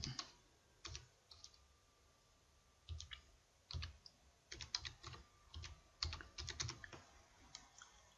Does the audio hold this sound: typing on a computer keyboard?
yes